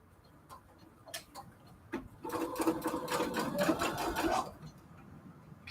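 A home sewing machine runs in a steady mechanical burst of about two and a half seconds while stitching fabric for a storage cube, with a few clicks and taps before and after, close and fairly quiet.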